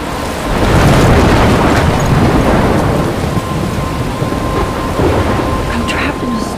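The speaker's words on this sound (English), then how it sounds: "I'm trapped in a storm?" A loud thunderstorm with heavy rain in the video game Life Is Strange, thunder rumbling over a dense, constant downpour throughout.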